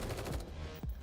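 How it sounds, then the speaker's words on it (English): A quick burst of rapid automatic gunfire from the video game Girls' Frontline 2: Exilium, dense overlapping shots crackling loudly for about a second. "Suddenly, the sound of intense gunfire fills the air."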